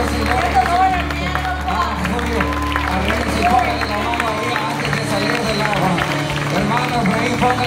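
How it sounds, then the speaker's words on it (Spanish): Applause fills a church after a baptism, a steady wash of clapping mixed with crowd voices and cheering that carries on throughout. "un aplauso fuerte a la gloria de nuestro Señor"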